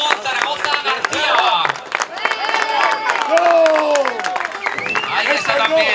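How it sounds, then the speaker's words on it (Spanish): Crowd applause and cheering at a classic motorcycle race in Cintruénigo, 2015, for the second-place rider, steady clapping mixed with crowd babble and loudspeaker voices throughout. "Venga, ese aplauso."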